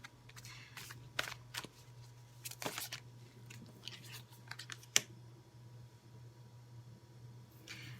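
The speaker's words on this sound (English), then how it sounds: "So I'm going to start with pulling your oracle card." Oracle cards are shuffled and pulled, with a handful of soft, quick riffling and tapping bursts over a quiet background hum, the last flick sharper than the rest.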